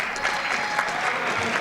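Steady applause from a school awards audience in a gym or hall, continuous dense clapping for a basketball team captain being introduced at a winter sports awards night, moderately loud and even throughout.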